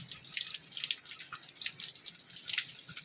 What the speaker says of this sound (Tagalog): Maagos yung tubig yan dito.